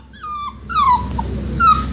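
A young dog, a pup, lets out high whining whimpers in a couple of drawn-out bursts, close and loud indoors, with small yips between.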